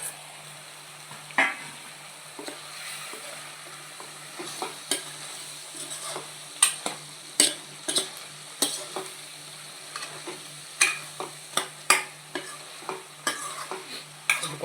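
Onions and capsicum frying in a pan while being stirred, a soft continuous sizzle punctuated by repeated scraping strokes of the spoon at an uneven rhythm, close and fairly quiet.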